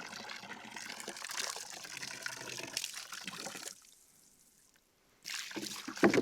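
Water gushing from the gray hose of a Milwaukee M12 cordless water transfer pump, a steady broadband splashing flow for several seconds, a brief quiet gap, then the stream resumes strongly.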